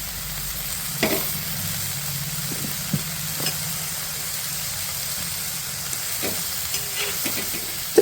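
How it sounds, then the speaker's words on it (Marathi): Garlic and amaranth greens fry in a pan with a steady, close sizzle that runs throughout, broken by a few soft clicks and taps of stirring. "इथे मी लसूण थोडासा भाजून घेऊन त्यामध्ये भाजी टाकलेली आहे."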